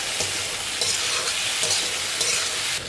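Pointed gourd frying in a pan with a spoonful of green chili paste while being stirred, giving a loud, continuous sizzle with recurring scraping strokes and no talking.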